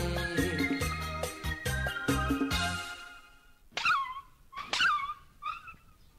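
A dog lets out a few sharp, high yips and whimpers close by, separated by short pauses, after a stretch of loud music at the start.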